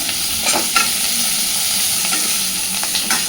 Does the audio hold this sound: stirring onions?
yes